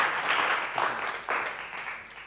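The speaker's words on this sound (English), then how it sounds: "Another hand of applause for you." Audience applause at a spiritual facilitation session, a short burst of clapping that rises and falls in a few swells over about two seconds.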